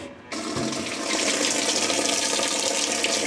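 Water rushes steadily into a Whirlpool direct-drive washing machine as it fills. The sound is a loud, continuous hiss that starts abruptly and runs alone with no talk.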